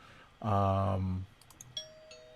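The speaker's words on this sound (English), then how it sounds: "the spoiler bell is one of the few sound effects that always comes through really loud" A podcast's spoiler bell sound effect rings out as a single loud, rich chime lasting under a second, followed by faint quiet clicks and a thin lingering tone.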